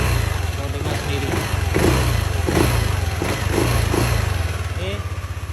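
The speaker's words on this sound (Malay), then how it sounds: "Untuk enjin, korang boleh dengar lah enjin dia." A stock 2024 Yamaha NVX 155 scooter engine running steadily with a low, even drone, rising slightly in a couple of mild revs, close by with voices talking in the background.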